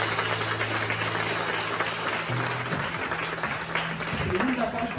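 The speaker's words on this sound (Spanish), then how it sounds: "Dale un aplauso a su palabra." A congregation applauds during a Spanish-language church service, a continuous wash of clapping with a sustained tone and some voices mixed in beneath it, fairly loud throughout.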